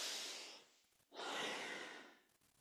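Deep, breathy exhalations during a kundalini yoga spinal warm-up, the Sufi grind, with two long whooshing breaths close to the microphone separated by a brief pause.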